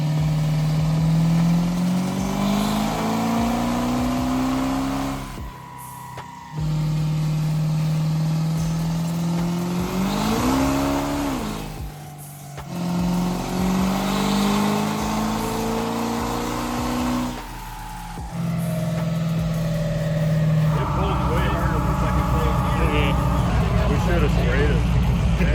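Burnout truck engine revving at full throttle, long loud sustained pulls that rise in pitch, break off briefly between runs and climb again, with a harsher roar at the end.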